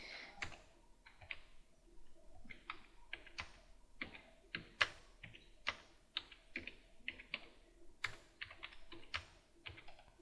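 Someone types a short line of text on a computer keyboard, a quiet, close run of irregular key clicks and taps in quick bursts with brief pauses, no voice over it.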